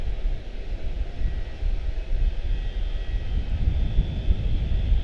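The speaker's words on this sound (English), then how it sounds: "Blue Street 2100 A320 214 to Fort Lauderdale." An Airbus A320-214 jet departs Charlotte-Douglas International, producing a loud, low, rumbling engine roar that stays fairly steady and swells a little toward the end, with no talk.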